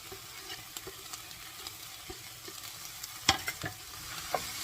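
Tomatoes are stirred into lightly fried onions in a pan for paneer butter masala: a soft, quiet scraping and shuffling, with a few sharper knocks of the spoon near the end.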